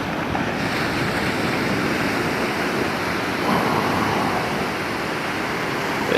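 Ocean surf washes steadily onto Stockton beach on a nice day, a continuous broad roar of breaking waves mixed with wind buffeting the microphone, with no voices over it.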